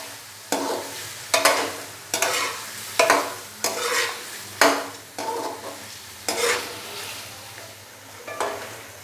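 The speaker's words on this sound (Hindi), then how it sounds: "बीफ डालने के बाद अच्छे से हम इसको मिक्स करेंगे, और 2 से 3 मिनट के लिए हम बीफ को भून लेंगे अच्छे से।" Boiled beef being fried and stirred in a pot, loud close strokes of a spoon scraping the metal in a steady rhythm of about one every second, over a continuous sizzle.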